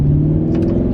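A modified Maserati with open exhaust valves rumbles loudly at close range, a deep steady engine drone with a strong low hum held for about a second.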